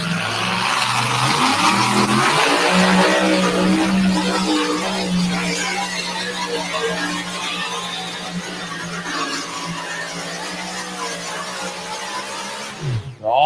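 A racing truck engine roars at high revs during a timed run, a loud sustained drone with shifting pitch and some tire noise, heard alone.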